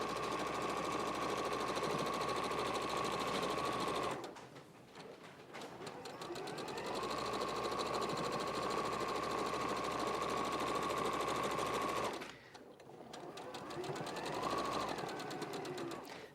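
A sewing machine stitches a quilt seam straight down in long, steady loud runs, pausing twice briefly before starting again, with no talk over it.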